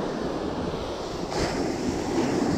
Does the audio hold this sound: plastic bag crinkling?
no